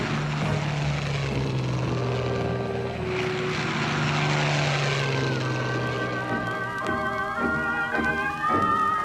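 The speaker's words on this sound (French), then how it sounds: "Les avions de reconnaissance allemands repèrent un adversaire qui n'en est pas un." German reconnaissance aircraft over Normandy in 1944, a continuous loud propeller engine drone with a steady low hum that shifts in pitch as it passes, with no talking.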